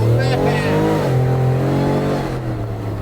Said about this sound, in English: first launch with the new supercharger pulley